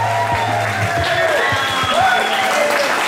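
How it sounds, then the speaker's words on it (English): Wedding reception guests applauding a newly married couple, a dense wash of clapping with cheers and whoops, voices and chatter mixed in throughout. "give that couple a big round of applause."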